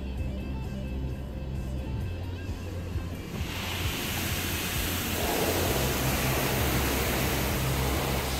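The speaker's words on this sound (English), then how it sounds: "Look, here comes more water." Water sprays hard across a car inside an automatic car wash, a dense rushing hiss heard from within the vehicle that swells louder and brighter partway through, over a low rumble of machinery.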